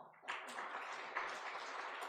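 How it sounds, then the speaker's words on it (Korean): A church congregation applauds its choir in a sanctuary, a soft, steady patter of many hands heard from a distance and sustained for about two seconds. "격려와 위로의 박수 한번 하십시오."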